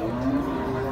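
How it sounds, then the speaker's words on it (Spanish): A large-uddered dairy cow moos once, a close, fairly loud tonal low call lasting about a second. "Qué preciosura de vaca, mi gente."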